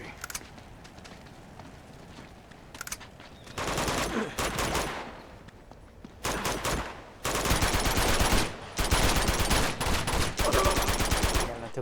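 Gunfire in Uncharted 2: Among Thieves, scattered shots at first, then loud sustained bursts of automatic fire in several long volleys, close and intense.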